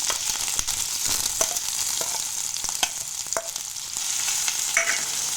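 Garlic sizzles and crackles in hot ghee for lentil soup, a steady close frying hiss with sharp pops and the scrape of a spoon stirring.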